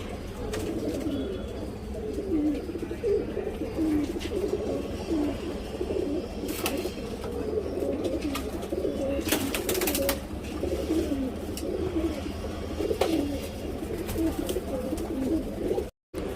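Tournament patta pigeons coo softly and continuously nearby, their low burbling calls layered together over a faint steady background, with no voices.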